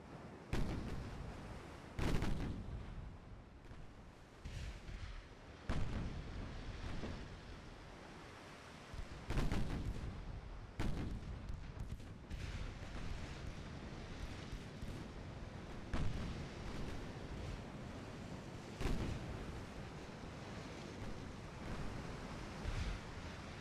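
Rapid naval gunfire from warships in the Ultimate Admiral Dreadnoughts game, heavy booming salvos repeating every few seconds over a constant roar of sea and wind, with no talk.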